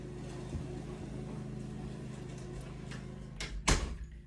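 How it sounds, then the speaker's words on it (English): A door is pulled shut indoors while a lawn is being mowed outside: a steady low mower drone runs throughout, then near the end come two sharp knocks, the louder one a solid slam. "I have to close the door"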